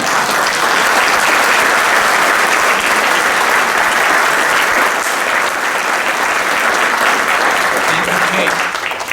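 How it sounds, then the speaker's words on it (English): Dense, sustained applause from a large audience at a 2023 high school graduation ceremony at Barker High School, steady and loud across the whole stretch with no voices breaking through. "Make sure to clap really hard after the valedictorian speech."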